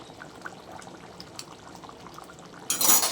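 Ghee poured into simmering mung dal cooked with fish head, a soft low bubbling for most of the stretch before a louder, brighter splashing pour bursts in near the end.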